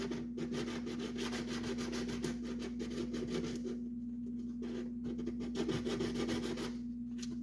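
Coarse 60 grit sandpaper is rubbed over a painted Boba Fett helmet in quick, steady back-and-forth strokes. The scratchy, continuous rasp plays close up under a constant low hum, with no talking.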